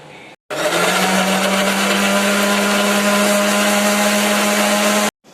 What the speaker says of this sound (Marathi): त्याला आपण आता बारीक करून त्याची पेस्ट करून घेऊया